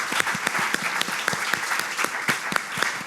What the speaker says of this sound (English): please, everyone join me in a round of applause for our speakers today.